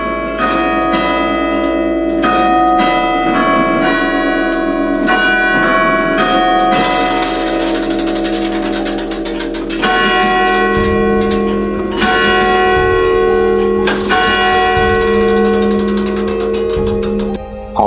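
Large clock tower bells ring out a loud, sustained chime melody, struck notes overlapping and ringing on with rich harmonic overtones, plainly heard with no talk.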